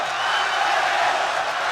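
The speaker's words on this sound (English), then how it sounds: "Crowd really into this fight, as you can hear." Boxing arena crowd at the Aaron Pryor vs Alexis Arguello fight roaring steadily, a dense, loud wash of cheering and yelling with no breaks.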